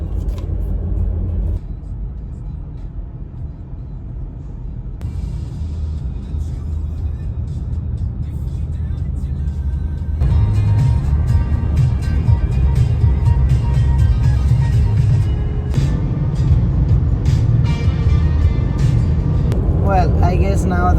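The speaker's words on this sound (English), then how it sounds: "now that I'm driving" A car drives through traffic, its engine and road noise a continuous rumble from inside the cabin, growing louder partway through, with a person talking over it at times.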